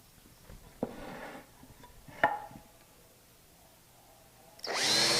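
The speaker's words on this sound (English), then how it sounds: "So we'll just drill these right through." A power drill drives screws through a wooden board in short whirring bursts, with a couple of sharp knocks between them and a louder sustained run at the end.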